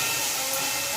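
Water splashed onto spices frying in a pan, among them cumin powder, for an egg and spinach dish, gives a loud, steady hiss of sizzling for a brief moment.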